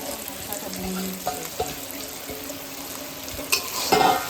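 Previously fried eggs being stirred into a pot of cooking noodles, a soft sizzle under scraping and clinking of a spoon against the pan, with faint background noise and a brief splash near the end.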